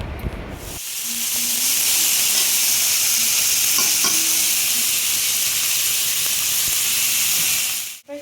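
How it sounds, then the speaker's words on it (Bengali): Vegetables such as beans and capsicum, paneer and chowmein frying in oil give a steady, loud sizzling hiss that starts abruptly and runs almost unbroken for about seven seconds, with faint stirring clicks and no talk. "তেলের মধ্যে একটুখানি ফ্রাই করবে"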